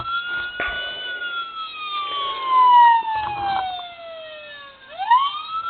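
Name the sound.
siren of Motormax 1:24 Charger toy police car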